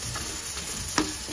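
Mutton masala is stirred in a frying pan over a continuous low sizzle, with one short utensil scrape standing out near the end and nobody talking.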